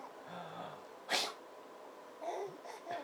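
A man sneezes once, loud and close, with a quiet child's babble before it and soft voices after.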